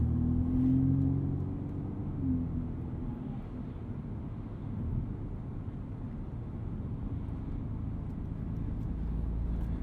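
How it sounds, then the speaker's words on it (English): A 2020 BMW M235i Gran Coupe turbocharged engine under gentle throttle, heard from inside the cabin as a low, steady drone that swells slightly, with road and tire noise from thin performance tires. "I'm just going to try to ease on the throttle. And then the turbo spools up and sort of surges forward."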